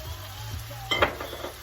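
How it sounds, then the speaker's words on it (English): Beef and string beans stirred in a hot pan with oyster sauce: a soft sizzle under a brief cluster of close scraping and clinking of a utensil against the pan. "go ahead, stir that up"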